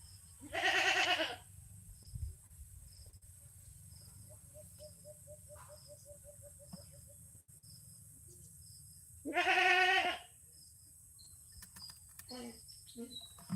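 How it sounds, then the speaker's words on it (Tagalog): A pet goat gives two loud, drawn-out bleats several seconds apart, close by, over a steady background of chirping crickets and faint distant sounds. "Ingay na talaga yung alaga kong kambing."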